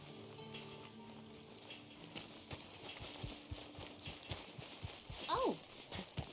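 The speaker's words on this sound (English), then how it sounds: "My horse!" A horse's hooves clip-clop in Red Dead Redemption 2, a steady, moderately close run of regular hoof strikes over faint background sound, with a voice speaking along with them.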